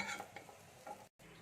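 Beaten egg frying in a pan, a soft low sizzle with a few faint stirring scrapes, quiet and close, cut by a brief dropout near the end.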